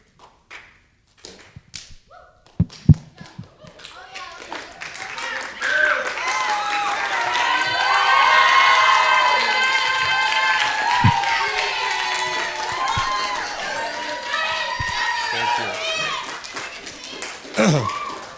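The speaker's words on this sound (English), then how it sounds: "I'm greatly touched by your applause" An audience at a school year-end honor roll chapel breaks into sustained applause, swelling from scattered claps into a dense roar of many hands with some cheering, then tapering off near the end.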